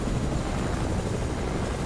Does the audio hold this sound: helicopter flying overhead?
yes